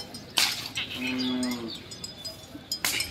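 Young calves in a cattle shed, bred as racing bullocks, give a clear drawn-out moo in the middle, with sharp clatters and knocks before and after.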